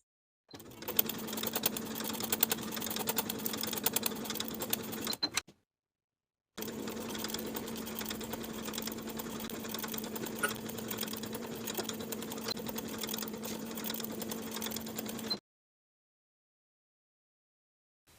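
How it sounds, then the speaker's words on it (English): A sewing machine runs steadily to sew basting stitches along the raw edges of fabric pant pieces, with a continuous hum for about five seconds, a short pause, then a longer unbroken run of about nine seconds. "We're going to sew basting stitches along the outer raw edges just to hold that edge in place."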